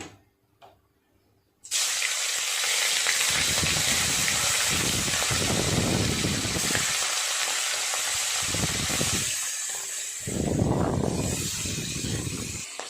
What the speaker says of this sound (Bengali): তেল খুব ভালোভাবে গরম হয়ে গেছে, এক এক করে মাছগুলো ভেজে নেব।